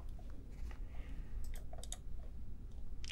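Quiet, sparse clicks from a computer keyboard as keys are pressed, including the enter key, heard close up against a low background hum with no talking.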